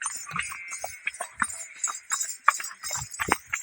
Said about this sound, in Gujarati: આ રાજુભાઈની ઘોડી આવી આવે છે.